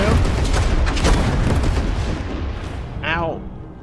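Mortar artillery fire in the Total Tank Generals war game booms as a loud, rumbling, continuous barrage that slowly fades, with a voice speaking briefly near the end.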